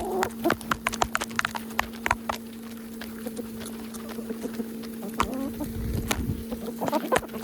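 Flock of about 35 chickens clucking while pecking at feed thrown on a cleared flat spot, with scattered close clucks and sharp pecking taps over a constant low hum from a running feed grinder.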